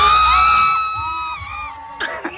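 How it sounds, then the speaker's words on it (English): A woman's high, sustained screech plays from a video, loud and piercing, then fades into a short burst of crowd shouting. "Did you hear the screech?"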